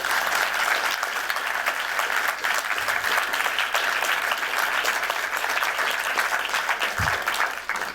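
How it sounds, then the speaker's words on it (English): Audience applause welcoming two speakers at a Designing Detroit talk, a steady, dense round of clapping that holds loud and even for the full eight seconds. "So let's welcome our two speakers with a round of applause."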